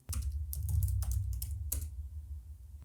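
Fingers type on a computer keyboard into a terminal, producing a quick burst of close, crisp key clicks that slows and fades toward the end.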